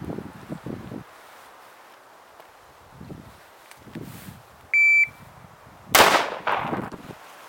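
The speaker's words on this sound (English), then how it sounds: "So I'm going to go ahead and take the shot, see if I can get it." A single sharp rifle shot, from a gun zeroed at 25 and 300 meters and fired at close range outdoors, cracks loud and near with a short decaying tail, after a brief electronic beep, wind and rustling.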